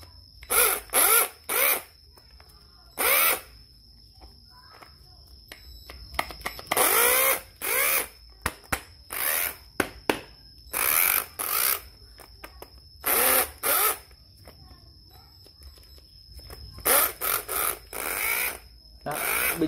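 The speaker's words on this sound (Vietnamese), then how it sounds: "Con 8 là một cái set cưa kiếm nha, như một cái Stanley đây." Stanley cordless reciprocating saw run in repeated short bursts, each a loud high-pitched motor whine lasting about a second, separated by brief pauses and quieter handling noise.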